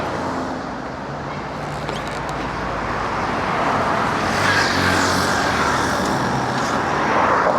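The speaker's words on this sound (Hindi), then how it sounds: "आप स्टार्ट करें गाड़ी।" A stalled car being started after a roadside push: the engine noise swells from a low rumble into a louder, steady running sound midway, with road traffic noise behind it.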